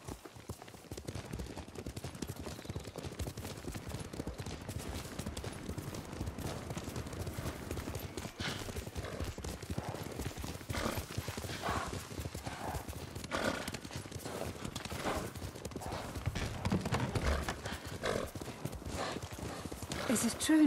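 Horse hooves clip-clop at a steady riding gait through a game set in feudal Japan on Tsushima island, continuous and fairly close, with occasional whinnies and talk running over the hoofbeats.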